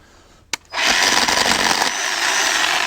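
A Harbor Freight 10-inch electric chainsaw cuts into hardwood: a sharp click, then the motor surges into a loud, steady, close whine as the chain bites, holding at full bore with a slight drop in pitch partway through.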